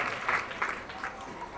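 A church congregation claps in praise during a worship service, with a dense, steady patter of many hands close by that swells in brief bursts across the short stretch.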